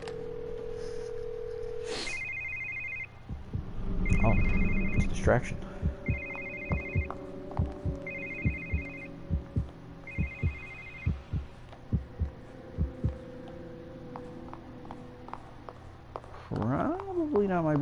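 A telephone in The Evil Within rings in short repeated electronic bursts at a steady rhythm, with footsteps and a short spoken line mixed in around it.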